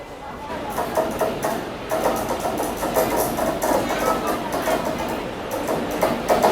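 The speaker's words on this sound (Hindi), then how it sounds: "हमारी ट्रेन का जो है ना अराइवल भी हो रहा है" Gujarat Sampark Kranti Express on Indian Railways rolling into a station, a steady loud rumble of wheels and carriages with rhythmic clacking, someone talking in Hindi over the noise.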